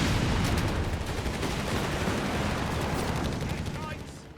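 Dense, continuous battle noise from the Company of Heroes 3 strategy game, sustained machine gun fire and explosions blending into a loud roar that eases slightly toward the end, with a commentator talking over it.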